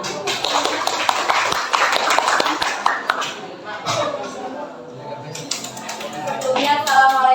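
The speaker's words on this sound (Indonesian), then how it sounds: "Tepuk tangan." Applause from a classroom group of teachers, a close burst of hand clapping overlapping with talking voices, fading midway and then picking up again.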